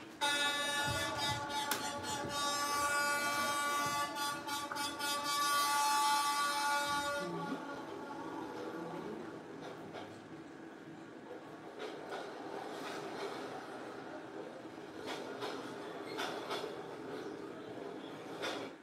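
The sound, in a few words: train passing through Train Street in Hanoi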